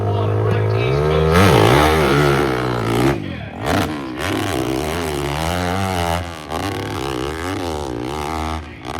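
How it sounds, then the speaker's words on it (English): A KTM 450 motorcycle revving hard at the Devil's Staircase hillclimb, its engine rising and falling in pitch through repeated throttle bursts, loud and sustained, with an announcer talking over it. "Coming out of gate number 1, he'll come to a compartment. He's on a KTM 450."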